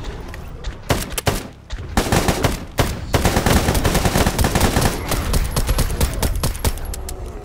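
Dense, loud automatic gunfire from a video game raid on the Chernobyl nuclear power plant, with rapid overlapping shots that build into a near-continuous fusillade.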